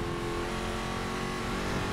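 Small, powerful Honda Civic engine in the racing game Need for Speed Heat, droning steadily and loudly as it accelerates, a continuous broadband roar with no talk over it.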